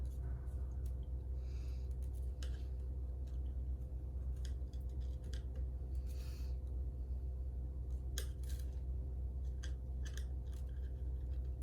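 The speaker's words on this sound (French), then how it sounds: "Que je coupe ce fil un peu trop long là qui me gêne." Scissors snipping thread while making Christmas jewellery or tree ornaments, a few faint crisp snips and small rustles scattered over a low steady hum, with no talking.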